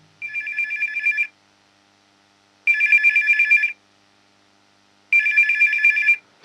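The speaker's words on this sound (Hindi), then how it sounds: "फोन की घंटी बज रही है" A telephone rings loud and near in three separate bursts, each a trilling electronic ringtone of about a second with a short silence between, and no voices.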